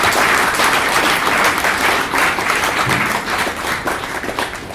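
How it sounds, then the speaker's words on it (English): A large audience at a symposium's opening night gives sustained, dense applause from many hands, steady and full throughout and tapering slightly toward the end, with no talking. "Please, everyone, just another big round of applause."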